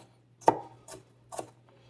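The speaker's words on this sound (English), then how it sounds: "we'll just give this a little chop" A sharp knife chopping omelet ingredients such as tomato on a board, three distinct close, crisp strikes spaced evenly apart with quiet between them.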